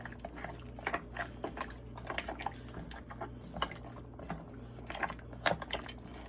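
Cornstarch is stirred into water for a pot of beef neck bones, giving soft, irregular liquid swishes and light pattering clicks against the cookware, quiet and close with no talking.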